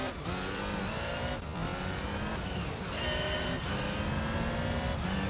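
Race car leaving the pit lane in Gran Turismo 3 during a JGTC race, a loud continuous engine roar rising and falling through gearshifts, with faint tire squeal and other cars nearby.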